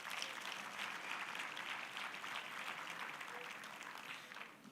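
An audience at a conference gives a steady round of applause, a continuous even clatter of many hands heard faintly from a distance with no clear voice on top.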